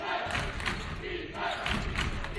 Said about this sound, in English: As the crowd gets into it for the first time today.